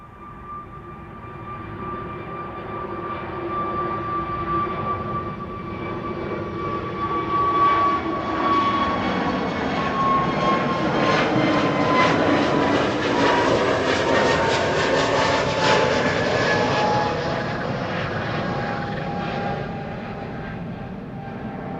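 Airbus A320neo jet on flight 461 to Reykjavik departing Schiphol runway 24, its engine whine and roar swelling to a loud peak midway then easing as it climbs away, no voices.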